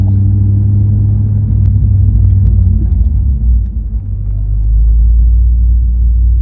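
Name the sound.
manual car engine accelerating in second gear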